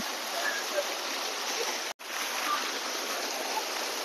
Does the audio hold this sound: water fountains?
yes